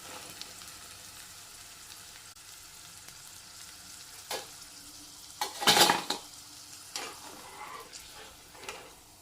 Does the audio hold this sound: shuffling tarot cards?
no